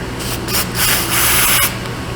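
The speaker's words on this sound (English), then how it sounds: "keep it pointed towards the piston, little silicone spray" A hissing silicone spray aimed at a piston in a few short and longer bursts, close by, with faint mechanical background noise.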